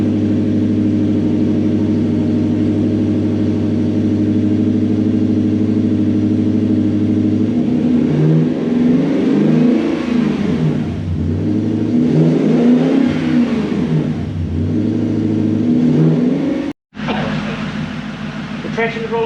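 A Toyota Celsior / Lexus LS400 engine with a suspected high idle fault, running loud and close: a steady idle hum, then several revs rising and falling, with a brief dropout near the end.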